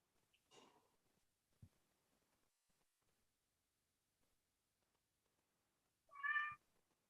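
A pet cat gives a single clear meow near the end of a mostly quiet stretch, with only faint, scattered small noises before it.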